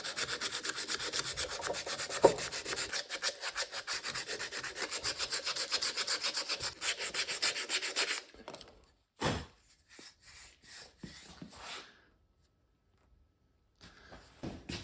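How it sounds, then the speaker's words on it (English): Hand sanding of an outboard motor's steering pivot shaft: rapid, even back-and-forth rubbing strokes, close and steady for about eight seconds, then a few scattered scrapes and handling knocks before quiet. "Just a little sanding on this and this should be ready to put together."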